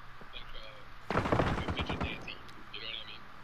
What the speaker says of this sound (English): Somebody else is shooting him now.